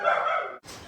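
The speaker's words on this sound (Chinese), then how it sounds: "我突然听到狗叫啊！" A dog gives a short sharp bark followed by a brief yip, close and fairly loud, with no voices over it.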